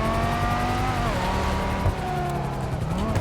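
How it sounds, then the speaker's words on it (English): A car in GTA 5 drifts around a corner with a tire squeal and engine whine, loud and close, sweeping in pitch as it slides through the turn. "That NPC was drifting that corner"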